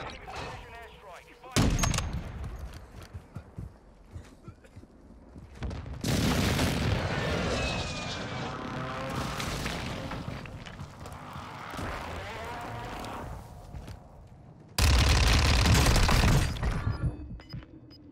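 An airstrike in Warzone 2 hits with heavy booming blasts and crackling gunfire, three loud sustained explosive bursts separated by quieter stretches of distant shooting and rumble.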